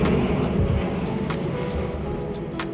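An airplane passes over a New York City street, a broad steady roar that slowly fades, with a few faint ticks and clatter in the background.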